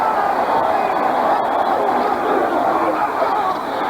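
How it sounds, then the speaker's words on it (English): Stadium crowd roaring at a 1984 Monday night NFL game between the Atlanta Falcons and Washington Redskins, a continuous loud wall of voices swelling on a third-down goal-line play. "And the crowd knows it. Listen to them."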